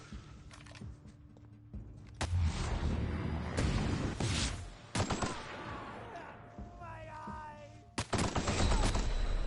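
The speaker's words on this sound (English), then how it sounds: "why am I getting shot from now?" Rapid gunfire bursts from The Outer Worlds video game, loud sustained volleys with sharp individual shots and gaps between bursts, over a dense game soundscape.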